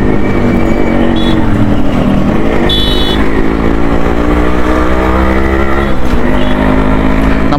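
A motorcycle on a morning ride, its engine droning loudly and continuously with a wavering, rising and falling pitch as it pulls and eases off, heavy wind rush throughout and no talking.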